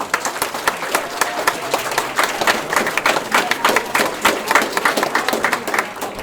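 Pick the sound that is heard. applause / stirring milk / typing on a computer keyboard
applause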